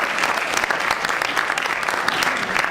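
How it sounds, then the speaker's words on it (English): An audience applauds the judges at a college elevator pitch competition, a dense, even burst of many hands clapping close by for a few seconds with no talking over it. "Let's give them a round of applause."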